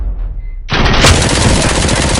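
Gunshots in Robocop Rogue City erupt suddenly after a brief quiet, a loud, dense burst of rapid fire that blasts continuously to the end.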